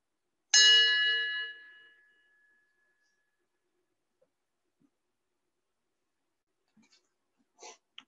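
A memorial bell rung once at a paramedic remembrance ceremony, a clear bright metallic strike ringing out and fading over about a second and a half, followed by near silence and a few faint distant knocks.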